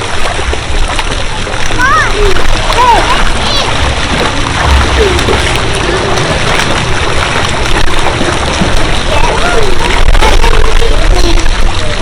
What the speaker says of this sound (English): you're getting really good at swimming.